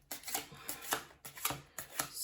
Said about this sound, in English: So let me shuffle